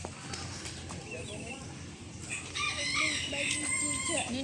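Harsh, repetitive guineafowl calls ring out at a mini zoo, growing louder and busier partway through, over a low murmur of background noise.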